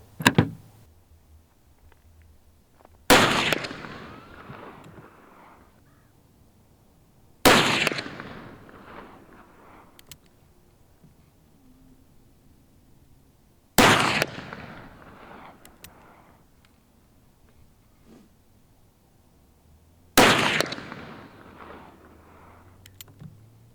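.44 Magnum pistol fired with reloaded ammunition, five loud, sharp single shots spaced several seconds apart, each with a short echoing decay, nobody speaking.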